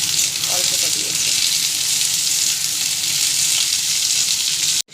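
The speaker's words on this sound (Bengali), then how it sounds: "এবার আমি সবজিটা ঢেলে দেবো।" Vegetables fry with browned onion in a pan while pasta is being made, a loud steady hiss and crackle of sizzling oil running throughout, cutting off abruptly at the end.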